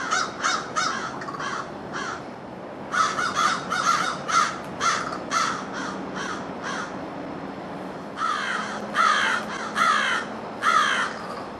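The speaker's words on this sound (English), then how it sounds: "the crows interrupting your filming" Crows caw in repeated harsh bursts, several calls in quick succession, then a pause, then more rounds of calling, fairly close and loud over a quiet outdoor morning background.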